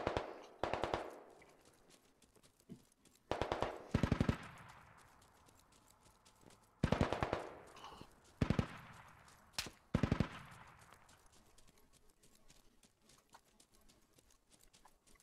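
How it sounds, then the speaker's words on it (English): Machine gun fire in the tactical shooter Squad, several separate loud bursts spaced a few seconds apart, each trailing off into a long echoing decay, with no speech. "Not exactly a CQC machine gun that I'm running with, but I'll roll with it. Just hold down the trigger"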